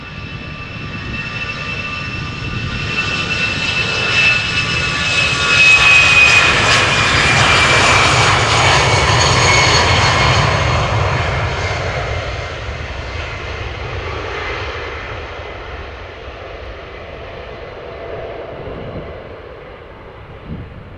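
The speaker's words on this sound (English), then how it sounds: "EasyJet A319 outbound to London Stansted." An easyJet Airbus A319, seventeen years old, takes off from Amsterdam Schiphol: a broad jet roar with whining high tones swells over several seconds, peaks, then slowly recedes into the distance.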